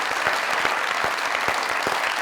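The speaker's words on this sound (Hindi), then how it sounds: "जोरदार तालियां" Dense, sustained audience applause at a comedy talk show as guests get a standing ovation, with steady clapping throughout and no speech.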